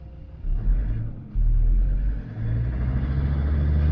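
A Land Rover Discovery TD5 diesel engine idles steadily after a misfire repair, giving a loud low rumble with a brief rise and dip early on, then a smooth, even hum.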